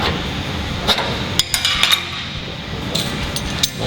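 Sharp metallic hammer blows drive a seam splitter, or weld buster, into a drilled-out spot-welded seam on a 1967-1969 Camaro outer wheel tub, with several irregular clanks spread across the stretch over a steady shop background.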